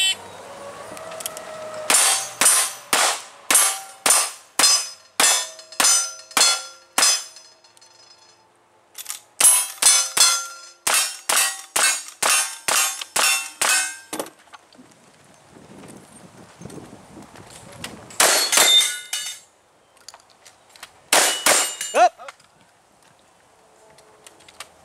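Gunshots ringing off steel targets at a shooting stage of a Santa Rosa Slinger match: a rapid, evenly spaced string of loud shot-and-clang impacts, a brief pause, a second quick run, then a few scattered hits.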